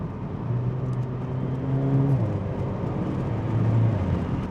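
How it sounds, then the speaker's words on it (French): Mercedes CLA 45 AMG engine and exhaust droning while driving on mountain roads, a steady close-miked interior hum with a rising tone that briefly climbs and then settles, with no talking. "On entend vraiment l'échappement à l'arrière qui fait du bruit."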